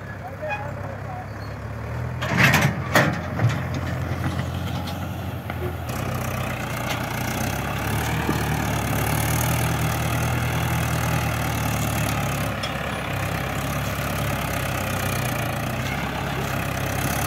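A Mahindra 575 XP Plus tractor engine runs with a steady, rumbling drone throughout, close by. A few sharp clanks sound early on, and then the engine holds an even, continuous roar.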